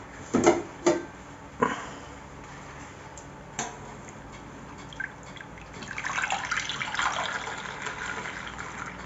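Egg flan mixture poured into a small flan mould, a few soft drips and splashes early on, then a steady, moderately loud stream of liquid filling the mould over the last few seconds.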